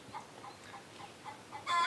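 A chicken clucks softly in the background with a few short, evenly spaced clucks, faint and distant, followed by a brief louder squawk at the end; nobody speaks.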